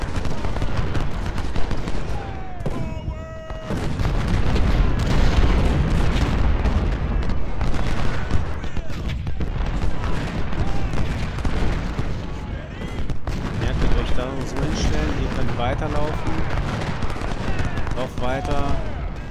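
Dense battle noise in the Civil War game Ultimate General: Civil War, with repeated booming cannon shots and crackling gunfire, layered with shouting voices and chaotic din throughout.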